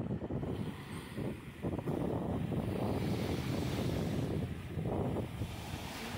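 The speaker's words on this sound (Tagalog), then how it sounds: "Pakinggan yung alon, no?" Waves wash onto the shore of a very large lake, a continuous surging wash mixed with gusty wind buffeting the microphone, fairly faint and with no voices.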